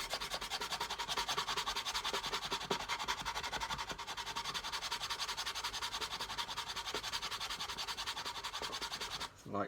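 Sandpaper rubs back and forth over a small wooden plank on a model pirate ship hull, a faint, steady scratchy rasp of rapid close strokes that stops briefly near the end.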